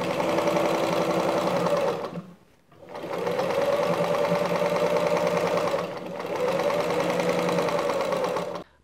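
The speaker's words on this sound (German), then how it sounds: "Auf diese Weise steppen wir unsere ganze Decke zweimal ab." A sewing machine quilts a patchwork blanket made with denim appliqué, running in loud steady bursts with a rapid needle rhythm, briefly pausing twice before starting up again.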